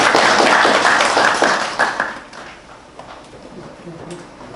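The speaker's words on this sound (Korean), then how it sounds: "큰 박수 부탁드립니다." At a civic forum, a seated audience welcomes the opening speaker with a burst of clapping that is loud for about two seconds. It then thins to scattered claps, and a voice begins near the end.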